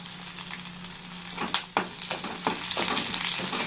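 Dried red chillies, green chillies and garlic sizzle in hot oil, a steady crackling fry with a few sharp spits and stirring clatters over the second half, close by and with no talking.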